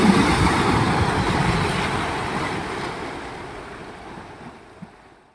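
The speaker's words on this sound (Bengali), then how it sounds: "এই দেখুন একটা ঢেউ আসছে।" Sea waves breaking and washing onto the sandy beach at Shankarpur, a broad continuous roar of surf with wind buffeting the microphone, gradually fading toward the end.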